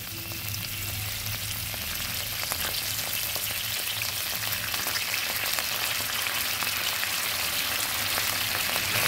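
Ginger and ground spices fry in a pan with a dense, continuous sizzle that grows slightly louder, heard alone without talk.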